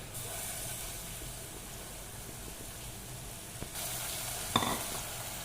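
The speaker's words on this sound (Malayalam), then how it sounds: "ഈ സമയം പച്ചമുളകും ഇഞ്ചി ഇടാം" Chopped green chillies and ginger frying in a pan, a steady close sizzling hiss that swells slightly toward the end and is marked by one brief metallic clink.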